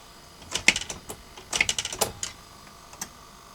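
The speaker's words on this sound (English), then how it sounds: "If I hold the bar down, the keys latch." Keys latching on a 1976 Philips N1502 video cassette recorder: a quick run of sharp mechanical clicks and clacks, close and fairly quiet, bunched in two bursts with a couple of isolated clicks after.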